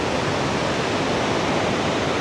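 Khone Phapheng waterfall on the Mekong in southern Laos, water pouring over rock ledges in a steady, dense broadband roar that stays loud and unbroken throughout, with no voices.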